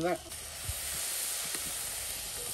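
Tomato and onion drop into ginger and garlic frying in a pan for a village-style prawn biryani, setting off a steady hiss of sizzling that carries on after a short voice at the start.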